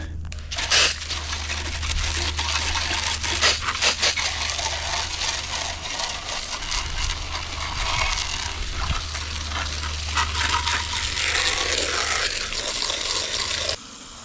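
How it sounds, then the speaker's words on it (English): A garden hose sprays water over mud-caked dirty computers outdoors, a steady loud hiss and splatter running continuously with shifting spray intensity, close to the listener. "Let's go ahead and see how effective my hose is going to be"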